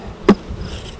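Honey bees fanning at a beehive give a brief, soft insect buzz with one sharp tap in the middle, lasting about a second.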